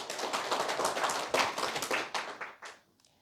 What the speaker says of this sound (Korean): 박수, 박수, 박수.